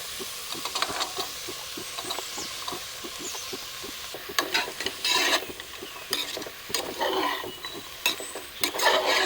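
Chopped beans and carrots frying in a pan for vegetable pulao, a continuous sizzle with rapid rhythmic stirring scrapes, growing busier with louder utensil clatter and bursts of frying in the second half.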